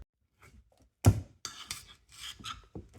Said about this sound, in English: Pop this little red cover off.